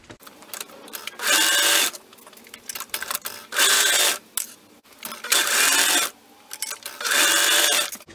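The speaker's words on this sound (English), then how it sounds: "Now we're going to go ahead and sew those shoulder seams together. I use my serger." Serger overlocking the shoulder seams of an adult swimsuit, running in four loud, steady bursts of about a second each, with short pauses and quiet handling between them.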